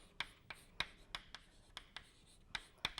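Chalk or marker strokes on a board during a physics lecture on quantum mechanics, a series of short, sharp taps and scratches spaced irregularly, close and fairly quiet, with no talking.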